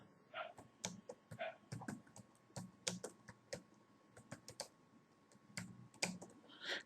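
Keys clacking on a computer keyboard as a Google search is typed, a quick, irregular run of close, crisp taps with short pauses between bursts, no talking.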